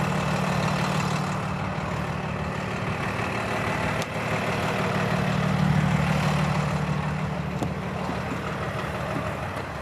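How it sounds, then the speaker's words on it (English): A 2024 Freightliner M2 106 Plus truck's diesel engine idles nearby with a deep, steady rumble, a couple of faint clicks breaking the drone. "So as the engine is actually started on here"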